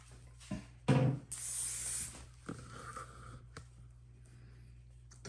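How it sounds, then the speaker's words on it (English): Hairspray hisses in a sustained burst of about a second onto freshly styled hair during a quick hair-colour session, with a few smaller rustles and clicks around it and no talking. "Now we're gonna get sprayed."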